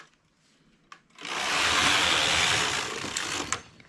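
A knitting machine runs its carriage across a row after a couple of faint clicks, giving a loud whooshing mechanical rush that swells, holds for about two seconds, then fades with a final clack.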